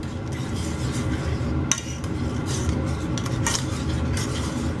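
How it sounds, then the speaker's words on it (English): A spoon stirs through a pot of boiling water for cabbage rolls, producing steady metallic scraping and clinking against the pot over a bubbling wash, close up and without talk. "give it another stir"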